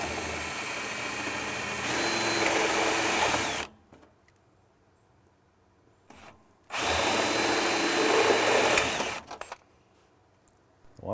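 A power drill with a bit, cooled with water, bores into a moldy Midea U Smart Inverter window air conditioner in two loud, steady whirring bursts of several seconds each, separated by a quiet pause with faint handling clicks.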